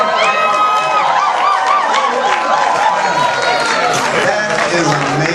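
Loud applause and cheering from a crowd at a business launch event in the UK, with dense clapping, whoops and shouted voices filling the room throughout.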